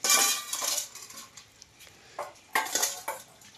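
Cooked hilsa fish being lifted from a pan into another pot, with close metallic clinks and scrapes of utensil against cookware in a few separate bursts between quiet pauses, no talking.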